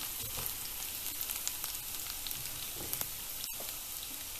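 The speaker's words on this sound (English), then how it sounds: "To this I'll add in the garlic. Cook it on absolutely low heat." Chopped garlic frying gently in about two tablespoons of oil on low heat, giving a steady, continuous sizzle with small pops and crackles throughout and no voices.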